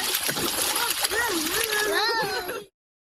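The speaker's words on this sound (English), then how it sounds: "I'm taking water from the creek" Water splashes loudly as it is scooped from a farm creek, close splashing and pouring with a voice chattering over it, cut off abruptly near the end.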